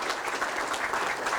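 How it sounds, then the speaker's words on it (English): Dense, continuous applause from a conference audience at a closing ceremony, many hands clapping evenly throughout with no speech on top. "So please, I would like to have the TPC members with a big round of applause, I mean louder than this."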